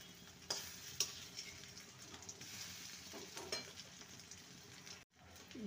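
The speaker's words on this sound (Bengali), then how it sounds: "ডিমের বড়াগুলো ভাজা হয়ে গেছে" Egg and onion fritters fry in a pan of hot oil with a soft, steady sizzle and faint crackles, close but quiet, with no voices.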